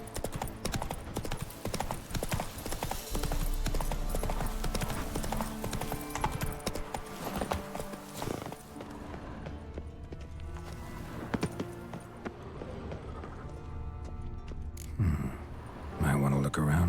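Roach the horse gallops in The Witcher 3, steady clip-clop hoofbeats running under a continuous bed of game music and ambience, with a brief louder burst near the end.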